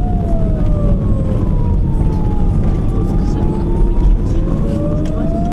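An emergency vehicle siren wails loudly and steadily on a road, its tone gliding slowly down and back up over continuous traffic rumble, with no speech.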